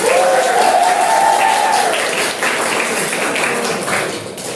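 Students in a classroom clap their hands together, a brief loud burst of many hands that tapers slightly, with a voice briefly heard over it.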